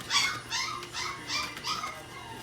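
Mini Goldendoodle puppies give a run of about five high whimpering yips and barks in quick succession, close and fairly clear over a quiet background.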